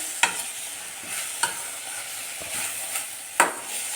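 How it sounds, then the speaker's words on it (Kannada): Tomato stir-fried in a pan for a dhaba-style egg curry, a constant close sizzle with a few sharp spatula scrapes against the pan at irregular intervals. "ಟೊಮೆಟೊ ಸ್ವಲ್ಪ ಫ್ರೈ ಆದರೆ ಸಾಕಾಗುತ್ತೆ"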